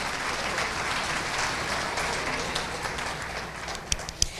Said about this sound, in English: Give him a round of applause for swimming here.